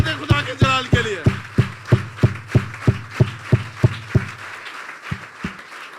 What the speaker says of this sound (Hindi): जोरदार तालियां बजा दें खुदा के जलाल के लिए।